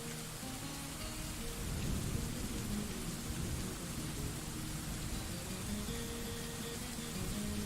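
Rain in the video game Dwarf Fortress, a soft, steady wash of falling rain with low rumbling thunder underneath, even and unbroken throughout.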